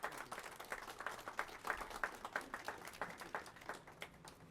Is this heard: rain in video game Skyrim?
no